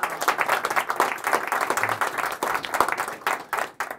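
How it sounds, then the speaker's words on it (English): Audience applauding after a magic rope trick, close, lively clapping from a small crowd with uneven bursts and swells throughout. "Big round of applause."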